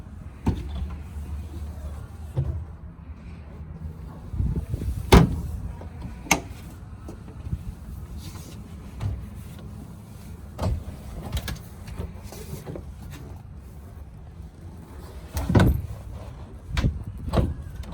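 Storage lids under the seat cushions of a 2020 Boston Whaler 240 Dauntless boat opening and closing, giving several sharp close thumps and clacks spaced irregularly over a faint low background.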